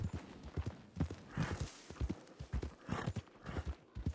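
Horse hooves clip-clop in the Red Dead Online video game, an even trotting rhythm of close, moderately loud steps repeating throughout with no talk.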